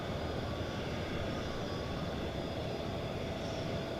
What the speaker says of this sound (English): Flight 1425 with Odell the Lynx on the tail of that Airbus A320 off to San Diego,